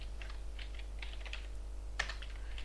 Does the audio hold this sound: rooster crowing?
no